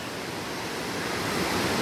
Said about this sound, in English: So you can probably already hear the ocean.